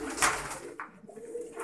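Pigeons coo nearby, a soft low throaty call with a brief burst of higher rustle, heard alone and fairly close.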